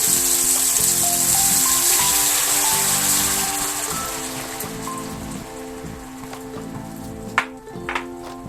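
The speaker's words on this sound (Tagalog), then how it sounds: "Lagyan ng tubig." Water poured into a cooking pot while preparing fish with black beans, a steady splashing pour that is near and fairly loud, tapering off with a few clinks of the pot toward the end.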